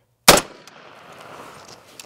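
A single loud rifle shot of a 7.62x39 FMJ Fiocchi round fired at a hard armor plate, a sharp close blast followed by a decaying echo and faint scattered ticks, with no talking.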